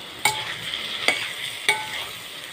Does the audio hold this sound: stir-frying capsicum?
yes